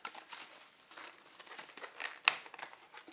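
Paper is handled for a test of an X-Cut corner punch, giving soft crinkling and rustling with one sharp crackle near the end, close and quiet, with no talking.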